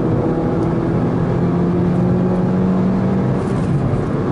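A 2015 Kia Rio's engine held at steady revs while stationary, a loud, even droning hum with a low tonal note, heard from inside the car with no talking.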